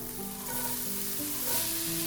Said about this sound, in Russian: Отправляем лук на разогретую сковородку